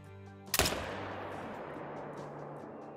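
One sharp, loud AR-308 rifle shot in the hunting game Call of the Wild cracks close by, then rolls into a long echoing tail that fades slowly across several seconds.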